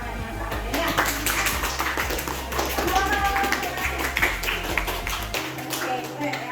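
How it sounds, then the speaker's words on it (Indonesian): A classroom group claps together in a quick, uneven patter of hands, close and fairly loud, with a voice talking over the clapping before it stops. "Mari kita kasih hadiah untuk kalian bersama-sama dengan memberikan tepuk tangan yang sama"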